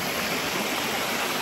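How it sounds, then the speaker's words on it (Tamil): Steady, dense rush of water pouring down the Bheeman Sunai waterfall, its flow low, heard close up as an even, unbroken roar with no voices. "சூப்பராக போயிட்டு இருக்கு தண்ணி, சில்லுன்னு இருக்குது தண்ணி."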